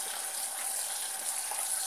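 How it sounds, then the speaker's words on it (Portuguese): Water gushes and splashes steadily as it is poured over food and stirred while rinsing it for a simple lunch, a close, continuous hiss with no talking. "E jogo um pouco de água e mexo assim, né?"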